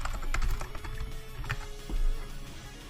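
Rapid keystrokes on a Microsoft Ergonomic 4000 rubber dome keyboard, soft muffled clacks coming in quick uneven bursts, close and fairly quiet, with no talking.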